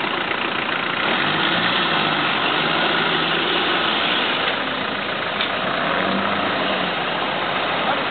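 A car engine runs steadily just after the clutch is released, a continuous mid-pitched hum with slight rises and no voices over it.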